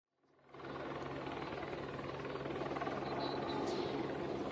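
A rescue helicopter hovering over a flooded area, its rotor and engine noise rising quickly to a steady, loud, continuous drone with no voices.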